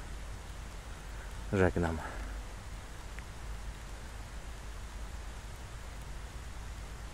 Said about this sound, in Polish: Niestety jest dzień deszczowy.